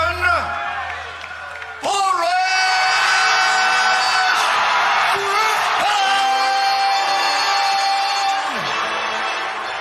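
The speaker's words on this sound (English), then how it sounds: "Much of the crowd isn't happy and boos the decision." A fight crowd at a mixed martial arts event boos a unanimous decision, a loud sustained roar of jeers and yells mixed with shouting voices, with a sharp swell early on that stays heavy to the end.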